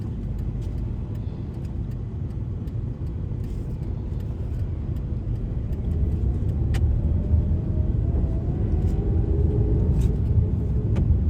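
A car driven on a road during a driving test makes a steady low engine and road rumble, rising slightly partway through, with no talking.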